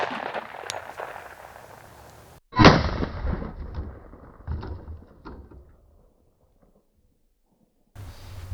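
A .460 S&W round strikes body armor outdoors: one sharp, loud blast followed by a decaying echo and a few softer knocks, then near silence.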